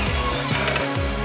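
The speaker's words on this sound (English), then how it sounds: "I'm still sanding the same legs." Wooden table legs being sanded by hand in a renovation workshop, a steady scraping rub repeating in short strokes, close and continuous with no talk.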